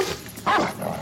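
A dog in an X-Files episode gives a single sharp bark followed by a short yelping tail, heard close and clear from the TV soundtrack.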